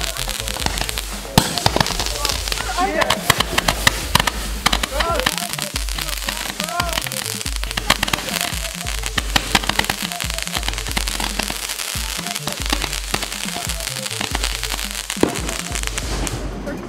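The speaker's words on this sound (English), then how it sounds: "These are the most boringest fireworks," Consumer fireworks go off outdoors in a dense, continuous barrage of loud crackling pops and bangs, with voices talking over the blasts throughout.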